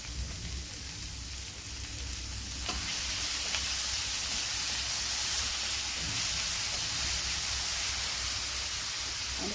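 Chopped tomato goes into a hot pan for oats upma, and the steady background sizzle suddenly swells into a louder, hissing fry that stays constant and close.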